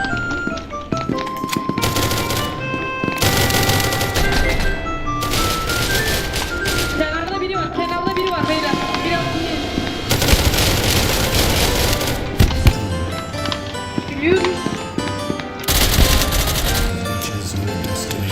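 Gunfire in the video game SCP: Secret Laboratory, loud rapid automatic bursts broken by brief pauses, with game effects running underneath.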